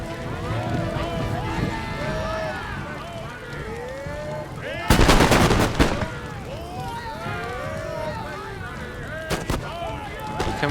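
British troops in Empire: Total War fire a massed musket volley, a loud crackling burst in the middle with a couple of sharper shots later. The battle ambience underneath carries distant shouts and a voice talking.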